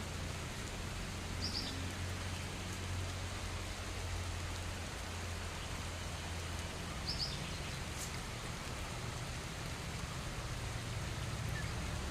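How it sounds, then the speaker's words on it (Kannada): Soft, steady patter of winter rain falling on an outdoor courtyard, even and continuous throughout, with a couple of distant bird chirps. "ಮಳೆ ಬರ್ತಾ ಇದೆ ನೋಡಿ ಅಂಗಳ ಎಲ್ಲ ಒದ್ದೆ ಆಯಿತು"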